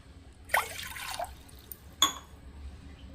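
Water and sugar pour into a pot on a stove, two short splashing pours, then a brief trickle and a clink of glass, close by and otherwise quiet.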